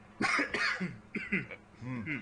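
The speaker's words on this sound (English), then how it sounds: "just cough again to make it more normal" A few short coughs and throat-clearing sounds from a nearby person, mixed with brief voiced noises.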